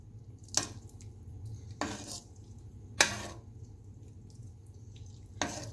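Cholay in a pot being mixed with added paste, stock and black pepper: four separate spoon-on-metal knocks spaced about a second apart, each a short bright clink over a low steady hum, no voices.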